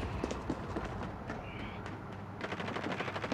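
Rapid gunfire in a Call of Duty match, quick bursts of shots crackling over a busy game soundscape, moderately loud and continuous across the moment.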